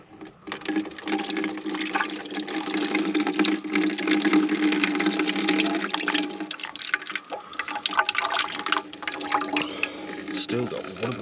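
Water pours and splashes steadily for several seconds from a Fordson E27N tractor engine sump, a continuous gurgling stream that thins slightly toward the end, heard close up.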